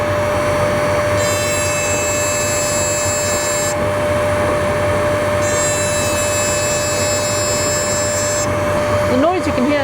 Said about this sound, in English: The noise you can hear in the background is my dust extractor.